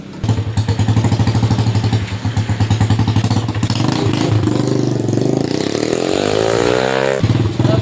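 A neglected, straining trail motorcycle engine chugs loudly at idle with a pulsing beat, then revs up and pitch climbs before dropping back.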